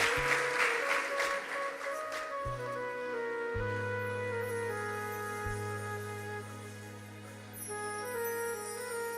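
An audience at a devotional bhajan gathering for an annual memorial claps in thanks. A brief burst of applause at the start fades under sustained melodic music.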